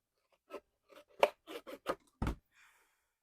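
Scissors snipping the corners of chipboard: about eight sharp, separate cuts and crunches spread over a few seconds, close and clear against silence.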